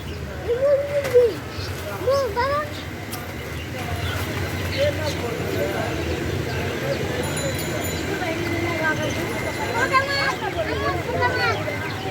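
Pigeons at a small pet shop give soft, repeated cooing calls over a noisy background, with people talking nearby throughout.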